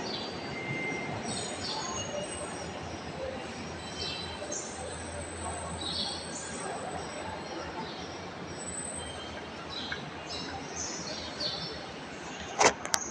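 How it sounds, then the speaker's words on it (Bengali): A Dhaka Metrorail train passing on its elevated line, a steady rumbling rush with faint wheel squeal, ambient street noise and a voice speaking underneath, ending in a few sharp clanks. "এই ট্রেনটা অনেক জোরে যায়, যেটা দেখলাম অনেক জোরে যাচ্ছে"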